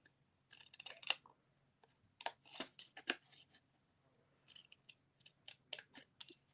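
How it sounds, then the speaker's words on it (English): Scissors snip a small triangle out of card, a close run of crisp, quiet cuts coming in short bursts with gaps between. "Cut this little triangle out."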